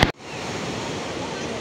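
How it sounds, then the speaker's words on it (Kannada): Sea waves wash continuously onto a rocky beach in Pondicherry, a steady broad surf roar following a brief burst of other noise at the start. "ಅಲೆಗಳು"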